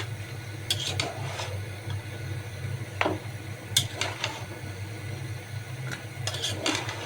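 Potatoes being stirred and sautéed in a pan, with quiet scraping strokes at irregular intervals over a steady low background hum and faint sizzle; no talking.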